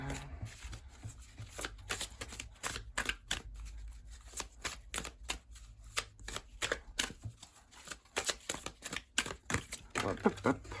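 Tarot cards being shuffled for a reading, a long run of rapid riffling bursts, close and crisp, with no talking.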